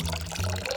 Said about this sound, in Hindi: मुझे इसे पानी देना चाहिए।